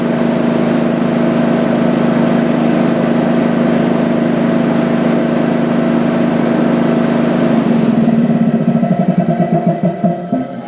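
An air compressor motor runs at a steady loud drone, then winds down after its stop delay, the hum slowing into fading pulses near the end.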